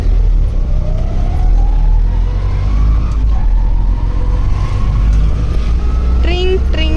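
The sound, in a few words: auto rickshaw ride engine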